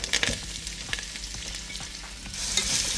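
Chopped onion, green chilies, garlic and curry leaves sauté in a hot pan with a loud, steady sizzle and frequent stirring clatter that grows busier toward the end.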